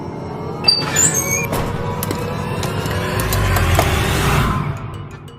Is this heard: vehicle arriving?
yes